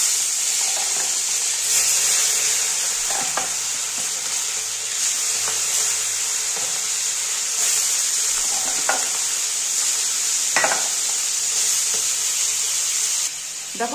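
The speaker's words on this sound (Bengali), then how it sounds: "গরম হয়ে গেছে, মাছটা আমি ভেজে নেব।" Surma fish frying in hot oil in a pan for a fish and eggplant curry, a steady loud sizzle with occasional spattering pops and stirring clinks, no talking.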